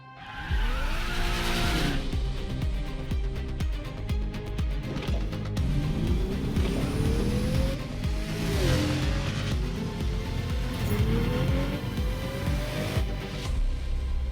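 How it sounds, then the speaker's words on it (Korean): A Pagani Huayra supercar tears through Seoul city streets in a racing game, its engine revving up and down through repeated gear sweeps with tire squeal and skidding, loud and continuous throughout. "오늘 파가니 와이라를 타면서 서울의 도심을 폭주를 해볼 건데요"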